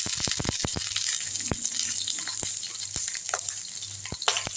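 Green chilli and garlic crackling in hot oil in a pan, with sharp popping spatters and a steady sizzle, occasional spoon scrapes and clinks close by.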